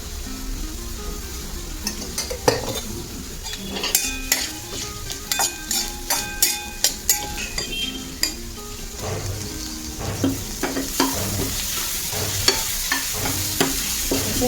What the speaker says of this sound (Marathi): आपला कांदा पण भाजून होतोय, ही मटकी पण भाजून होते आपली.